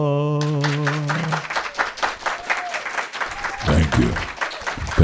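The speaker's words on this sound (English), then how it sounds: "ain't no need y'all doing all that clapping and all that for him" An audience claps and cheers after a sung Christmas number, applause swelling over the last sung note with a voice speaking over the crowd.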